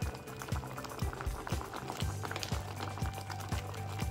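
Homemade strawberry jam bubbles in a pan as it cooks, with a steady low simmering hiss and regular soft popping bursts roughly every half second, faint and close with no talk.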